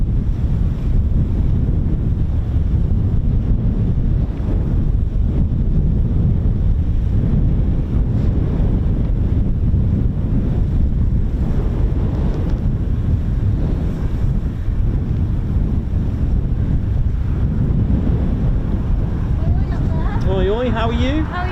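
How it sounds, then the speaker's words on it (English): Strong wind blows across an outdoor spot at RAF Coningsby, roaring and buffeting the microphone in a loud, unbroken rush for the whole stretch. "it's a bit windy, isn't it?"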